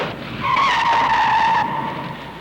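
Tires on a Fiat 124 screech loudly during stunt driving, one sustained skid with a wavering squeal that swells and then fades as the car slides.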